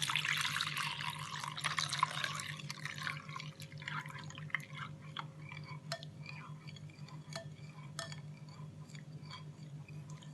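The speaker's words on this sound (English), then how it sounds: "And then we're going to pour our milk." Milk being poured into a bowl for homemade yogurt, a faint liquid trickle with a burst of splashing at the start, then scattered soft drips and small splashes in a quiet room.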